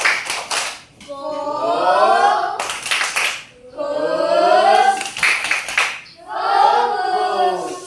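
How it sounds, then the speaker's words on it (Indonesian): A classroom of children does the "tepuk fokus" clapping pattern: brief bursts of rhythmic claps alternate with the class chanting in unison, close and lively. "Sekali lagi tepuk fokus"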